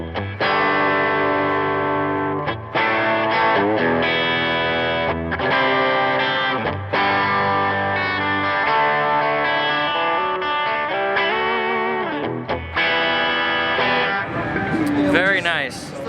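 Guitar through a Wampler Reflection reverb pedal rings out with long washy sustain and swirling tails, playing continuously with brief gaps between phrases.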